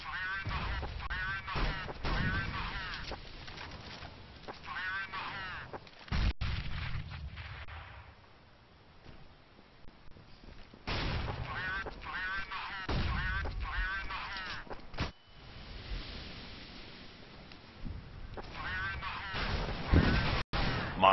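Desert Eagle pistol shots in CS:GO during a 3DMAX vs UMX.US showmatch: a few sharp, isolated cracks land under near-continuous commentary.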